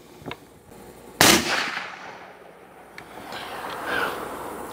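A single loud, sharp shot from a 350 Legend rifle outdoors, a sudden crack with a rolling decay, among faint ambient noise and small knocks before and after.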